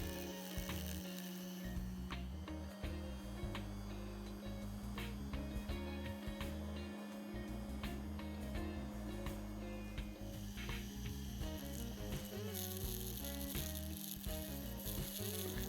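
A small rotary tool grinds away the axle rim on a die-cast Matchbox 35a Marshall Horse Box model, giving a continuous faint buzzing, rattling grind with irregular scraping bursts, close up and without speech.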